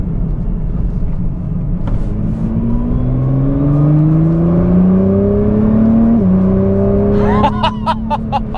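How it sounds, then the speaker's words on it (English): Nissan GT-R Recaro Edition accelerating hard in manual paddle-shift mode, engine note climbing steadily through the revs with a quick gear change midway and another near the end, loud and close from inside the cabin. "that is fast on the throttle as well. The gear changes are insane."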